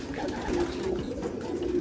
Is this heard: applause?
no